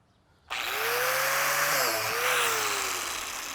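An angle grinder starts abruptly and whines steadily as it bores a hole into a log, its pitch dipping briefly under load before recovering; loud and close.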